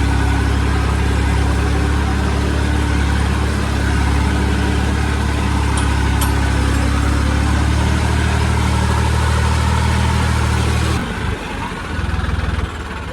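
A Massey 9500 4x4 tractor engine runs with a loud, steady low diesel drone and throb, close and continuous, easing slightly near the end with no talk over it.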